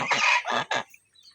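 A male raja hans duck gives three loud, close, harsh honking calls in quick succession, followed by near silence.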